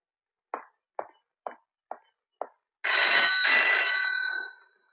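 Five short, evenly spaced taps lead into a telephone ringing, a bright, sustained electronic ring lasting about two seconds before fading, heard alone in a quiet room.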